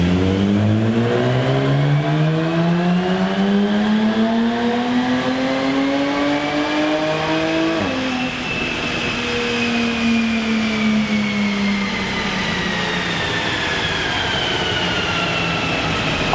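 A Jaguar F-Type with a 3-litre V6 revs hard on a dyno. Its engine note climbs steadily in pitch for about eight seconds, then the revs drop sharply and it winds down in a long, smooth, loud decay with no talking.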